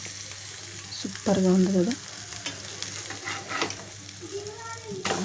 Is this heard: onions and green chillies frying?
yes